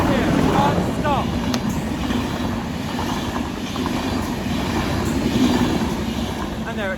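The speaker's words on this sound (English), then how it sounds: "trains such as this Enterprise train, 231, pass through here, non-stop" An Enterprise express passenger train rumbles loudly and continuously through a station non-stop, with rhythmic rail clatter and wind buffeting, and faint squeals rising over the steady roar.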